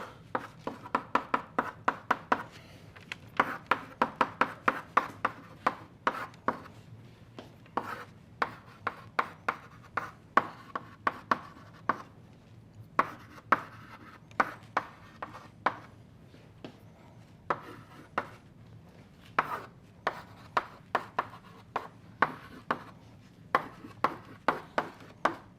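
Chalk taps and scrapes out an equation on a lecture board, a steady run of sharp strokes in quick clusters with brief pauses, fairly close and otherwise quiet.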